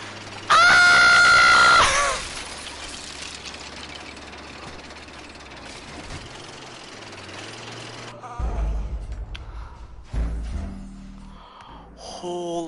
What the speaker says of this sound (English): What kind of scream is that?